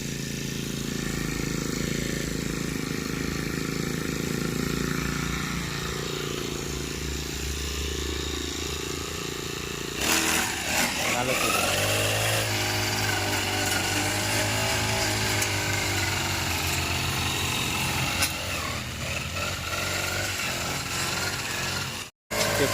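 A grass cutter machine with a blade runs steadily, its engine droning loud and continuous, then shifting in pitch as it works, with no talk over it.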